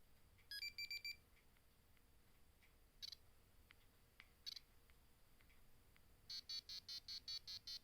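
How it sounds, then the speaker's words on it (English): An Apple phone gives off thin, buzzy electronic beeps in short rapid clusters, with a few isolated blips between them, faint against a quiet room. "it's basically like a PC beeper"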